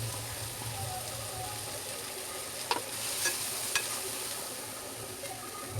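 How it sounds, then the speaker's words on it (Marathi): Tomato with coriander, turmeric, salt and chutney fries in a pan with a soft, steady sizzle, interrupted by a few quiet spoon clinks and stirring scrapes. "त्याच्यानंतर टमाट टाकून घेतले कोथिंबीर टाकली पटकन त्याच्यामध्ये हळद मीठ आणि चटणी टाकून घ्यायची"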